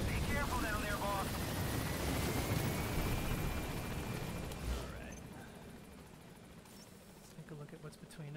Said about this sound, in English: right now it's just hanging on the side of the helicopter